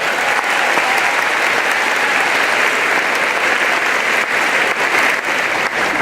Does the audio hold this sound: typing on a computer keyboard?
no